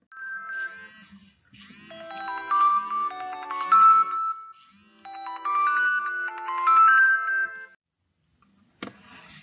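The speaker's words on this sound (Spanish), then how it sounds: "La alarma de su celular se activó." A mobile phone alarm rings with a melodic electronic tone, two cascading runs of bright synthesized notes separated by a brief pause, clear and close in an otherwise silent room.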